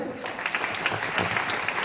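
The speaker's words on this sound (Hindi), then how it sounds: "आप स्वागत करें तालियों से" Steady applause from a school audience at a free bicycle distribution event, a dense continuous patter of clapping hands that holds throughout.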